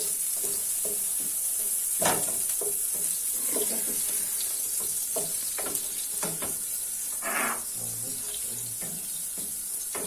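Oil frying in a pot as the first step of making pilaf, a steady soft sizzle with scattered crackles and pops throughout, close by with no talk.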